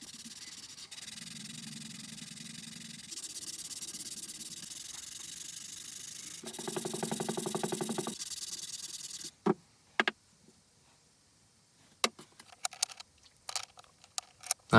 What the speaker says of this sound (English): And now onto a bit of hand sanding.